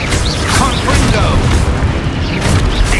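A Confringo blasting-spell explosion in Hogwarts Legacy, a loud booming burst amid constant combat noise, with a voice shouting over the din.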